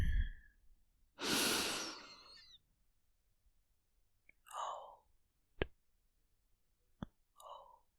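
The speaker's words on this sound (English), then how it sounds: "Take another deep breath in." A soft, close, deep inhale during quiet ASMR guided meditation, a long airy breath followed by faint sighs, small mouth clicks and gentle breathy puffs in near silence.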